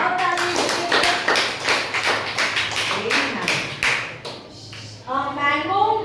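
Children clap hands in rhythmic unison in a classroom lesson, a run of sharp, evenly spaced claps close by, with a voice speaking over the end.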